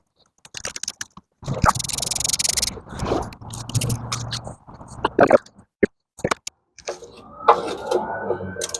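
The oil pan of a 1998 GMC Sierra engine is pried loose, with irregular metallic scrapes, knocks and clicks in short bursts close by, and someone talks in between.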